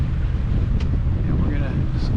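Wind rushes steadily over a sailboat in the Great Harbor of Mount Desert Island near Bear Island, a constant buffeting roar against the microphone with faint water sounds beneath.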